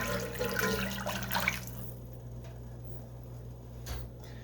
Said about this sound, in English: I'm going to go ahead and add this other quart of stock